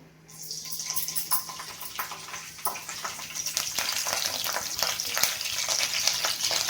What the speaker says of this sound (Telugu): కరివేపాకు వేసిన వెంటనే ఆడుతున్నాయి